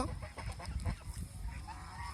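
Geese honk at a goose farm in Mohanganj, a few short nasal calls clustered near the start, then a faint, muddled flock murmur at moderate distance, with no voices over it.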